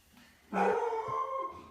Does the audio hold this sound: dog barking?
yes